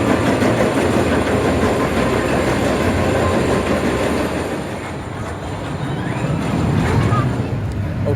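A roller coaster train rumbles steadily along its track at Blackpool Pleasure Beach at night, with a dense, rattling roar and faint voices mixed in the background.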